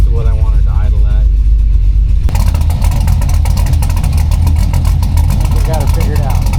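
A 1992 Chevy C1500 pickup with a swapped LS1 V8 and T56 transmission idles close by, a loud steady low rumble, with a person speaking over it in the first couple of seconds.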